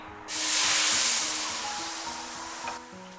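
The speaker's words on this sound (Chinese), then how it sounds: "开小火，慢慢的给它煸炒出香味。" Soybeans stir-fried in a wok over low heat give off a steady soft hiss and sizzle that swells quickly and then slowly fades, with a faint scrape near the end.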